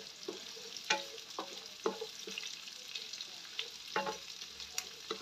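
Onion and garlic stirred in a hot pan for pancit bato, a steady sizzle broken by sharp scrapes and clinks of a spatula against the pan every second or so, close and moderately loud.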